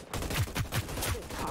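Rapid shotgun blasts in the sci-fi battle royale game Hyperscape, four or five punchy reports about a fifth of a second apart over a steady background of game noise, fairly close and sharp.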